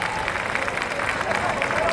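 An audience at an annual gala applauds the Galician dance group Alborada Gallego with dense, steady clapping that holds evenly for the whole stretch, mixed with some crowd voices.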